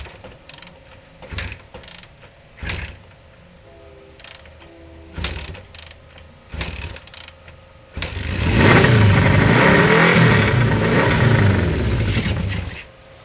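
A 1973 Honda CB500 motorcycle first gives several short starter cranks with pauses between them, then fires and runs loud and rough, revving close by for several seconds before cutting off.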